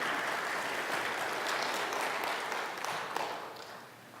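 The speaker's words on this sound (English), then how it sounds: "Give them a round of applause." A congregation's round of applause, a broad, steady wash of clapping heard from a distance that thins and fades toward the end.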